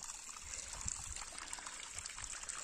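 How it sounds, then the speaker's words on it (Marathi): A small stream of water trickles along a farm field, a faint, steady, continuous babble with no talking over it. "उन्हाळा कडक उन्हाळा पाहिजे तिथं एवढा पाणी चालाय,"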